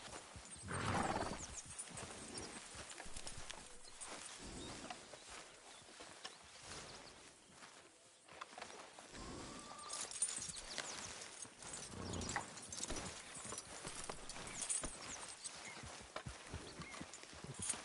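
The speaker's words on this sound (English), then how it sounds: "Careful with that horse, Arthur." Horse hooves clip-clop in the Red Dead Redemption 2 video game, an uneven run of soft thuds at moderate distance alongside faint game ambience and occasional low rumbles.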